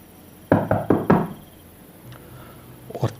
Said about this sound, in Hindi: अब मैंने हिम्मत करके दरवाज़ा खटखटा दिया